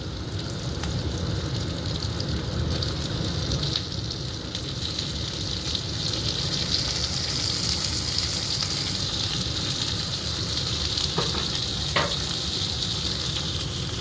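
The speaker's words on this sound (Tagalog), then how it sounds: "Magigisahin natin yung kamatis." Tomatoes sizzle steadily in a hot pan for a home-cooked dish of sardines with odong noodles, a continuous close frying hiss with occasional soft stirring scrapes and no voices.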